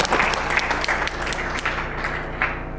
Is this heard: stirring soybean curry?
no